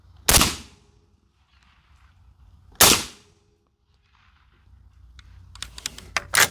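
Suppressed PRI MK12 .308 rifle shots fired outdoors, two loud sharp cracks about two and a half seconds apart, each fading quickly, followed by a cluster of quieter clicks and knocks.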